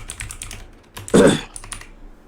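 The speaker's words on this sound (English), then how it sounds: "I see you typing in the notes." Typing on a computer keyboard during a gaming podcast recording, a quick run of clicky keystrokes with one louder burst of key presses in the middle, close and clear with no talk over it.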